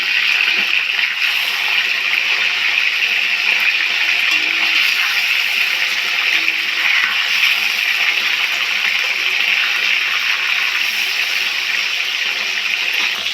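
Silver carp fillets fry in hot oil, giving a steady, loud, unbroken sizzle that holds evenly throughout with no voices.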